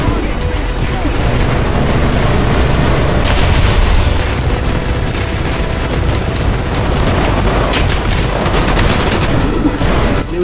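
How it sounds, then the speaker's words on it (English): Rapid sustained fire from a 5-barrel rotary 25mm anti-air cannon against World War II tanks in War Thunder, a loud dense unbroken roar of bursts and booms lasting throughout with a voice over it. "It was just so impressive to see what this 5-barrel rotary 25mm cannon is just capable of against these tanks."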